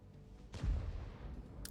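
An artillery gun fires in the tank game World of Tanks, a single muffled boom about halfway through with a low rumbling tail, heard fairly faintly against quiet background noise and followed by a brief high click near the end.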